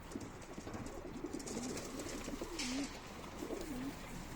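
Pigeons coo in soft, repeated rolling calls over a steady outdoor hiss, a few coos in a loose rhythm, moderately close.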